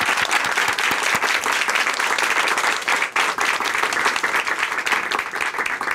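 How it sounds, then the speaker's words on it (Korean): A studio audience at a televised church testimony program breaks into loud, continuous applause, a dense and even roar of clapping that holds steady from start to finish with no talking over it. "그 에너지에 함께 박수를 보내드리도록 하겠습니다."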